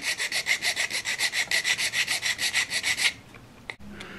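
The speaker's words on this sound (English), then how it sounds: "I'll just get a file and just file these flat" A hand file works flat the parts of an OO gauge model transporter kit, about fifteen quick rhythmic rasping strokes close up, then it stops with a soft clunk.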